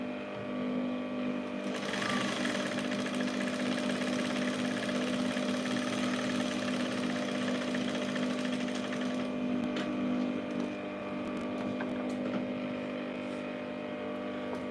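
A sewing machine runs steadily while stitching the facing on a dress top, a continuous motorized whir holding at an even level throughout without pause.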